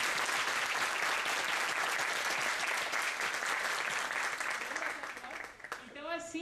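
Applause from a seated audience at a talk on adolescents' fundamental rights, a loud dense clapping that fills the room for about five seconds, then thins out and fades.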